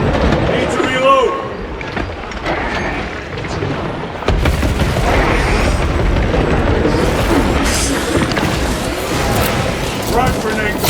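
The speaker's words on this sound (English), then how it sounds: "Frag grenade!" Deep booming frag grenade blast in Warhammer 40,000: Space Marine 2 combat, heavy rumbling explosion amid chaotic battle noise, with voices shouting over the din.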